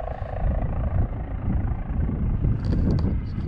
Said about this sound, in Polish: Helikoptery latają, już drugi.